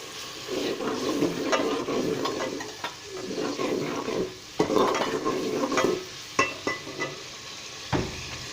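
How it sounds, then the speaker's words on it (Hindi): A tadka for chana dal sizzles in a pot while a spoon stirs it, giving a steady frying crackle broken by scraping stirs and a few metal clinks, with no talking. "फ्राई आपने अच्छी करना है, तड़का अच्छा लगाना है आपको।"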